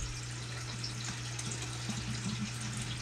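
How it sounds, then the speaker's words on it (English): Water runs steadily into the water dishes of a blue dart frog enclosure, a continuous faint splashing pour with a low steady hum beneath it. "Let's get their waters filled up."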